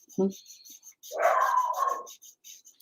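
A dog barks close by, one short bark followed by a longer whining, yelping bark, loud against an otherwise quiet room.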